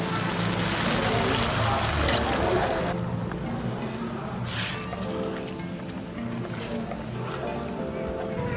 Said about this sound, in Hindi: अब मैं इसमें 1 गिलास पानी का ऐड करूँगा।